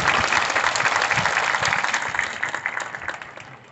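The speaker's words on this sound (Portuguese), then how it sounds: "a quem eu peço uma enorme salva de palmas" Church crowd applauding loudly and steadily at a São Sebastião feast celebration, a dense wash of clapping that carries on without pause and thins slightly toward the end.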